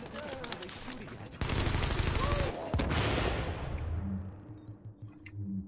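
Sustained bursts of automatic gunfire and scattered shots in the Dark Zone of a shooter video game, loud and dense at first, then thinning into sporadic pops, with a voice talking over it.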